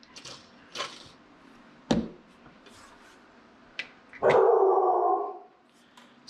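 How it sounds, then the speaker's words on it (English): A dog at a grooming session barks several times in sharp, separate bursts, spaced irregularly, with a longer rough outburst near the end, heard nearby in a quiet room without speech. "See what he's barking at."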